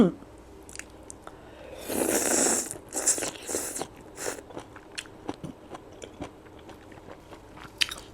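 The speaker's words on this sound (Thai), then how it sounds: "อีกคำนะคะ หนวดหมึกค่ะ จิ้มน้ำจิ้ม" Close-up chewing of squid tentacle dipped in keto suki sauce, a burst of wet crunchy bites followed by softer scattered mastication clicks, with faint talking in the background.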